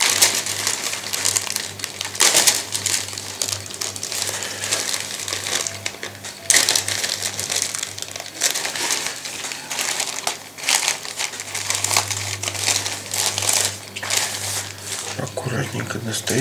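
Plastic bags from a Zvezda 1:35 Panther tank model kit crinkle and crunch continuously up close, with someone talking over the handling throughout.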